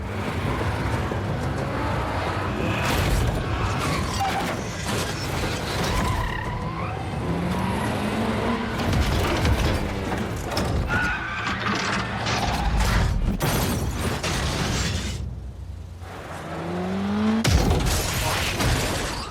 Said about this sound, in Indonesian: mobil yang mengejar Tegu terlempar dan tabrakan pun tidak bisa dihindari